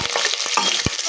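Cinnamon, cloves, cardamom, bay leaf and green chillies sizzle loudly in hot oil for a masala rice tempering, a dense steady crackle broken by short scraping stirs of the pan.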